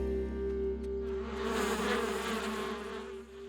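Bees swarm around a hive in a cartoon scene, their buzzing a sustained droning hum with fluttering wingbeat texture that swells and fades slightly, moderately quiet and alone.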